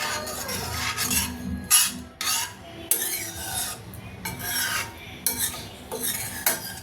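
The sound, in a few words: stirring spices in a pan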